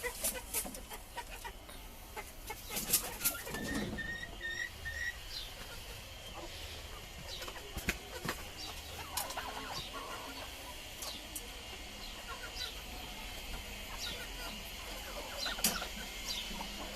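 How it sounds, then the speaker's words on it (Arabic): A broody hen clucks repeatedly close by on a farm, low intermittent clucks over a steady background with a few sharp knocks and rustles. "وهاي الكاركة هنا اليوم نكركها نخلي جواها بيض"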